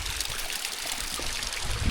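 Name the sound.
small waterfall in Buttermere valley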